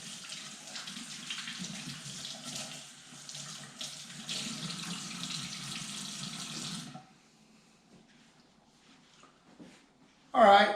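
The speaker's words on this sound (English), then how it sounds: "there's a lot of hand washing going on" Tap water runs steadily into a sink during hand washing while carving meat at home, a constant loud splashing rush that stops abruptly partway through, leaving quiet room tone before a brief clatter near the end.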